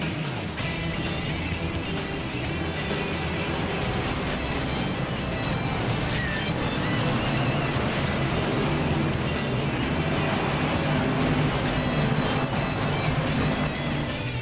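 NASCAR Car of Tomorrow stock cars in an iRacing race at Daytona, a dense roar of many engines droning together, loud and continuous without a break.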